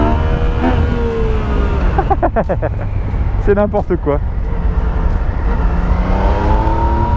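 A Yamaha MT-09 Tracer motorcycle engine revs hard in first gear with wheelie control on, its pitch rising and falling in several sharp surges, loud and close under a rider's talking.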